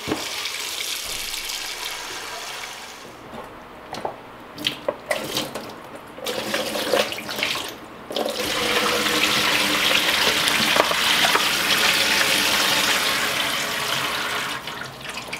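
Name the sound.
tap water running into a sink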